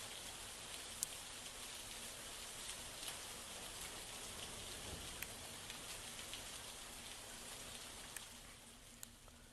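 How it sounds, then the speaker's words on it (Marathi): Steady rain falls near Bindusara dam amid green surroundings, a soft, even hiss of drops with occasional closer taps, continuous and undisturbed by voices. "सुरू असलेला पाऊस"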